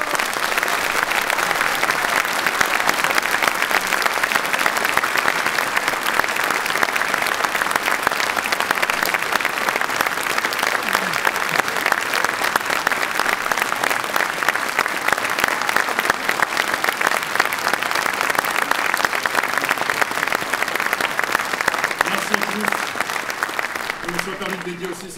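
Sustained applause from a crowd at a mayor's New Year greetings ceremony, steady and loud for the whole stretch, fading slightly at the very end.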